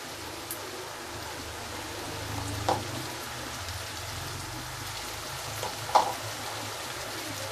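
Onions with salt and turmeric frying in a pan for chicken keema, a soft continuous sizzle with a couple of brief stirring scrapes, fairly quiet.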